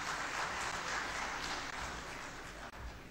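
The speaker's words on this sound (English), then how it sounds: "we need to give Mudassir Saab a very, very big round of applause" Sustained applause from a large audience, a dense, steady wash of clapping that holds at an even level for several seconds.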